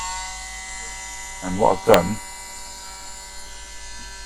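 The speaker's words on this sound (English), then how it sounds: "I've just got me my little multi-tool, started her up." A small rotary multi-tool files a rivet on a die-cast Dinky S.H.A.D.O. Interceptor model, giving a steady high motor whine throughout, with someone talking briefly over it partway through.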